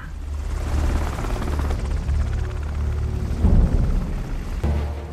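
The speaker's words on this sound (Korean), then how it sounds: "다음 날이 되고 약속 장소에 구조헬기가 도착했습니다" A rescue helicopter arriving in a film scene, its rotor thudding loud and steady with a deep low drone that swells as it nears.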